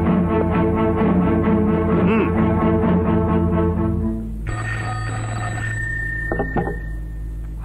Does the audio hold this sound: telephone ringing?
yes